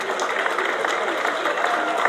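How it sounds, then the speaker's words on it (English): Crowd cheering and clapping at a sidecar speedway championship final at Belle Vue, a steady dense wash of applause sustained for the whole stretch with no break. "Give a cheer please for Matt Winterburn and Gareth Williams in yellow"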